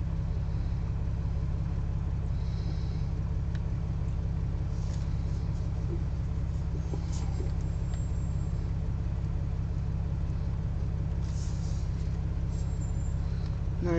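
A Jeep heading down Snoopy Rock gives a steady low engine rumble that stays constant throughout, with faint scraping and knocks over the top.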